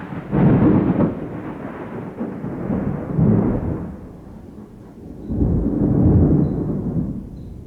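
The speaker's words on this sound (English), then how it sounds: "Finally getting a thunderstorm." Deep rolling thunder from a thunderstorm rumbles in several long, loud swells that fade and return, heavy low and unbroken with no voices.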